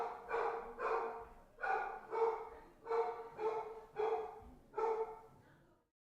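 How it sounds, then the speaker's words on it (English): A dog barks excitedly in a steady series of about seven loud, evenly spaced barks, each slightly doubled, heard clearly with no talk over it before the last bark trails off. "My dog is going batshit crazy."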